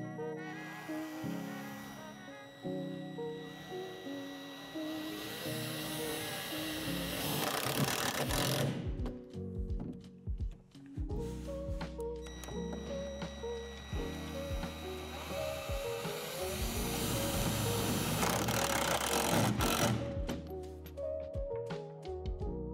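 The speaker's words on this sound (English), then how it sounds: "make sure you start slow in your drilling and pick up speed as it goes in" A power drill bores into a square tube while a Lifetime utility shed is assembled, its motor whining steadily, briefly stopping, then ramping back up and grinding on through a continuous, fairly close run.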